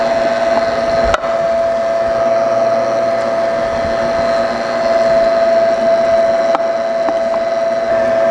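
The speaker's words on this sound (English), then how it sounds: "final grind on the lean coming up" A meat grinder running steadily through the final grind of partly frozen lean meat for homemade bologna, a constant motor whine with a couple of brief clicks, loud and close, with no talking.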